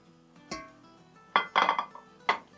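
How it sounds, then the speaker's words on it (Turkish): Washed hot peppers tipped from a bowl into tomato sauce for a pickle, giving a few short clinks and clatters of dish against pot: one knock, then a quick cluster and a last clink, close and fairly quiet. "yıkadığım biberlerimi domates sosumun içerisine döküyorum"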